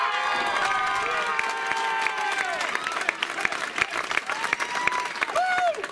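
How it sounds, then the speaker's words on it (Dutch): Audience at the Dancing aan de Vaart 2016 dance contest applauding steadily and cheering, a dense crowd sound that fades to scattered claps while a presenter speaks over it. "Uw applaus voor Marieke en Wim."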